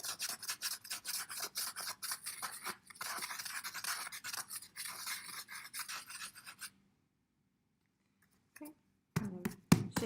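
Conte-like crayon rubbed over the image on a plexiglass plate, quick rhythmic raspy scratching strokes, close and dry, stopping into silence before a few final strokes.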